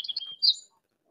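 A short, bright electronic bird chirp notification from a phone rings out, a quick trill followed by a louder tweet, then silence.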